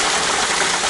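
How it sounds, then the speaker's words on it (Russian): Water from a roadside spring gushes in a loud, steady, close rush of splashing flow. "А здесь целый источник"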